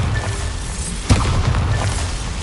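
Bombarda spell detonates in the Hogwarts Legacy video game, a single sharp explosive boom with a brief rumbling tail, heard over steady ambient game noise.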